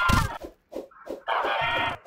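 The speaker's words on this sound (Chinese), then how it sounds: "好多火鸡攻过来了" Turkeys attacking in the retro-style horror game Uktena 64, a run of short bird clucks and gobbling calls breaking out in quick, uneven bursts, close and fairly loud, with no talking.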